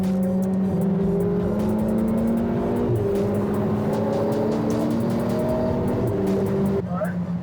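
A fast car on an open road accelerates hard, its engine note climbing steadily through the gear, loud and close with clicking and ticking throughout, while people talk over it.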